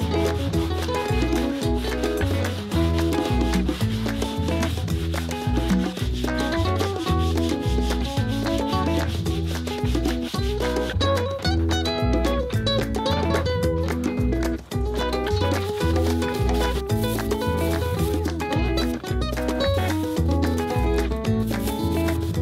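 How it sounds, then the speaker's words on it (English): Gluing faces of laminated wooden transom knees are hand-sanded with 40 grit sandpaper on a block, giving fast, continuous back-and-forth rasping strokes, close and steady, with no talk. "40 grit sandpaper and a block. I'm just going to rough up all of the gluing faces"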